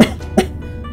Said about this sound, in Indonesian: Batuknya berlanjut beberapa saat sebelum perlahan mereda.